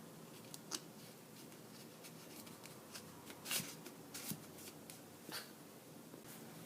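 Paper is folded into an origami butterfly at close range, giving quiet, sparse crisp creases and soft rustles with a few sharper snaps, heard alone without talk.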